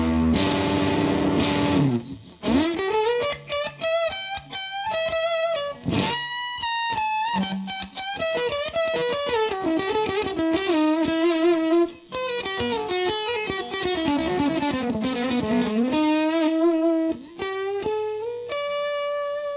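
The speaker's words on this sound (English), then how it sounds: "this is actually one of my favorite tones on this guitar. This neck split with a little bit of drive on it." A Paul Reed Smith CE 24 semi-hollow electric guitar with the neck pickup split and light overdrive plays a melodic lead line, sustained bent notes and runs, loud and close with no talking.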